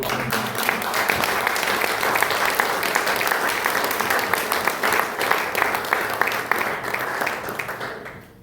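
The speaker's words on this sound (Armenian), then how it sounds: "Կարելի է նրան հատ ծափահարել։" A church congregation applauds during a sermon on the suffering of the cross. The dense, even clapping holds for about eight seconds, then tapers off at the end.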